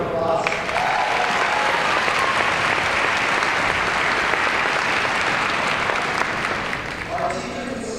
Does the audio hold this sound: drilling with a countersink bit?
no